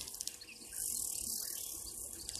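Grasshoppers chirping at an African waterhole, a steady, faint, high buzzing drone that swells slightly midway, with soft bird calls around it.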